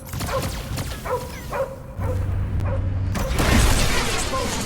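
Cosmo, the dog in the video game Guardians of the Galaxy, lets out several short barks and yips over loud game action and rumbling booms, with some whimpering mixed in.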